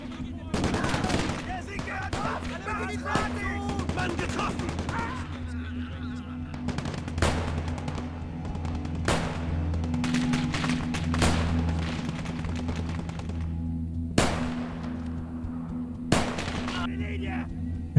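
Bursts of MG42 machine-gun fire in the WWII game Gates of Hell: Ostfront, several sharp loud volleys and scattered shots spread across a busy battlefield ambience with a low rumbling drone.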